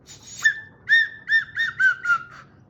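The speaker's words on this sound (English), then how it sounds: "Yeah, that's a whistle." A small plastic toy whistle from an Easter egg is blown in six quick, shrill toots, close and loud, with brief pauses between each blast.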